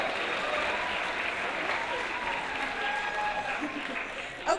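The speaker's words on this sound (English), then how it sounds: "A big round of applause for those guys." Audience at a wearable arts show gives sustained, fairly loud applause, a dense even clatter of many hands with a faint crowd murmur beneath.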